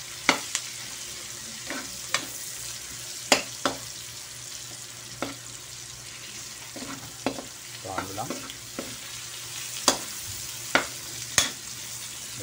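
Pork, tomato, okra and pechay sizzle in a pan for ginisang pechay, stirred with a utensil that scrapes and clacks sharply about a dozen times at uneven intervals over a steady close frying hiss.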